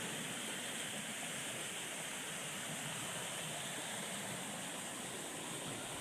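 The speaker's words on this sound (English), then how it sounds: "Dismal Creek continues to get bigger" Dismal Creek along the Appalachian Trail rushes steadily in a constant, broadband wash of flowing water, even and unbroken throughout, with no voices.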